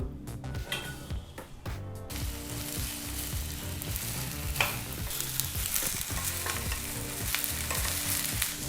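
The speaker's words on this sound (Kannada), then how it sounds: "ಚೆನ್ನಾಗಿ ಬೆಂಡೆಕಾಯಿನ ಫ್ರೈ ಮಾಡಾಯಿತು ಅಂದರೆ ಹುರಿದಾಯಿತು" Cut okra (lady finger) fries in a hot pan: a dense, continuous crackling sizzle, loud and close, with small pops and stirring scrapes throughout and no voices.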